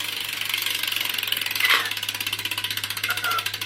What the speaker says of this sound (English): So you take this, you just spin it, see where it's scraping.